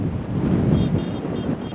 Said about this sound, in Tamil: காற்றுக்கு முடியலை காற்று தள்ளுது